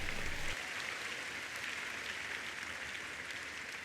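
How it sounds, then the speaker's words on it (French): A church congregation applauds together, a steady wash of clapping that stays fairly even across the whole stretch, slightly fuller at the very start, with no talk over it. "Give the Lord a big hand."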